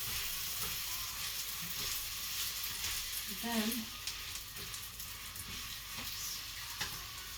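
Panang Malaysian coconut chicken curry sizzles in a pan while a spoon stirs it through a few scrapes, with a clink near the middle; the bubbling hiss stays steady and close throughout.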